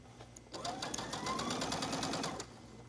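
Sewing machine stitching along a fabric edge, a fast steady mechanical rattle that starts up, runs evenly for about two seconds and stops, close and moderately loud.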